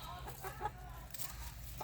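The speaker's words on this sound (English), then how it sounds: "I thought I'd show you my chickens." Backyard chickens in an Australian urban homestead yard cluck softly and intermittently nearby, quiet and low against faint outdoor background noise.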